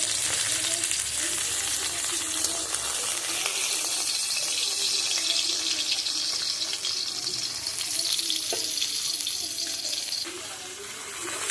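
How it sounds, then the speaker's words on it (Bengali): Pabda fish frying in a pan in a home kitchen, with a steady, dense sizzle that holds close and loud the whole time and eases slightly near the end, with no voice over it. "পরে মাছ দুটো আমি ওপরে ভেজে তুলে নেবো"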